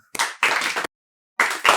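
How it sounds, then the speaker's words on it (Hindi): A small class of students clapping in two short bursts separated by a brief silence, close and crisp. "सबके लिए तालियां।"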